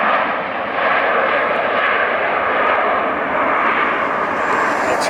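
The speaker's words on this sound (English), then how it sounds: "Love those 737s, they come in real fast." A jet airliner landing at LAX gives a loud, continuous roar of engine noise that holds steady throughout, with no speech over it.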